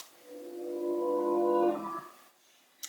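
A reversed guitar chord swells up from quiet to a peak over about two seconds, with the backward strum giving it a textured, rippling tail before it cuts off abruptly into near silence.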